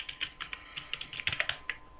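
A PHP artisan command being typed on a computer keyboard: quick, irregular keystroke clicks in short bursts, about a dozen and a half taps, quiet and close with no talking.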